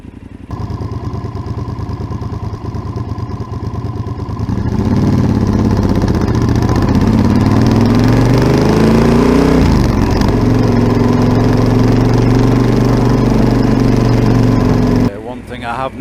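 Yamaha XT1200Z Super Tenere with a Delkevic 343mm oval exhaust idling with a steady throb, then revving up louder and holding a raised engine note before dropping back near the end, with faint talk at times.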